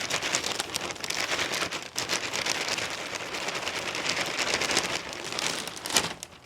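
Potting soil pours into a succulent planter, a dense continuous crackling, pattering hiss close by, steady with small dips and no voices.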